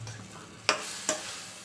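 Ground masala paste frying in oil in a pan for a peas and potato curry, a soft steady sizzle broken by two sharp scraping stirs of a spoon, close and quiet.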